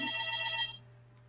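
A telephone rings with a bright electronic trill of repeated tones for about half a second, then cuts off, leaving a low steady hum; no one speaks.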